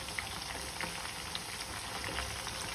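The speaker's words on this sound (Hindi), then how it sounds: "इसी तरीके से हम अपने सारे ही टिक्के फ्राई कर लेंगे।" Chicken tikka pieces fry in a pan, giving a soft, even sizzle and crackle with scattered tiny pops, quiet and steady throughout with no voices.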